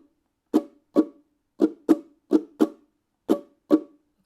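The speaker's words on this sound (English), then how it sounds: "We're going to just use the calypso strum. So that sounds like this." An acoustic guitar plays a calypso strum pattern: eight crisp, close strums in a syncopated grouping with short gaps between them. The strums are played alone, with no voices.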